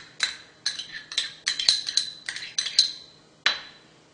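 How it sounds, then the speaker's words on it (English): Spoon stirring yogurt and green chilies in a bowl, producing a series of bright, ringing clinks against the bowl, roughly a dozen spaced taps in an uneven rhythm, close and clear with no talking. "We're going to mix our green chilies in."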